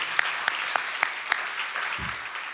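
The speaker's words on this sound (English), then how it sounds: "One more round of applause" Sparse, faint clapping at a county address event, a handful of sharp isolated claps spaced about a quarter second apart over a soft room hiss, with a brief low thump near the end.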